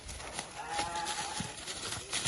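Livestock calls from sheep offered for sale, likely arashan sheep, ring out close by as a drawn-out bleat with a low moo-like tone over a busy, noisy farmyard background.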